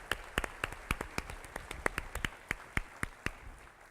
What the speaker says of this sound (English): Let's give all of our junior royalty another big round of applause.